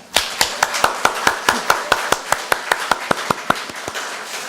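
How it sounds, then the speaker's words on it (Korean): Congregation clapping in unison at a Korean church's year-end Sunday service, about twenty sharp, evenly spaced claps at a brisk steady beat over a quiet background. "하나님 아버지 앞에 영광의 박수를 올려드리겠습니다"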